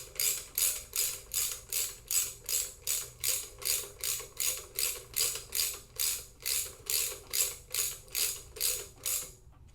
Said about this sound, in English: And I just use a ratchet just to tie them all up.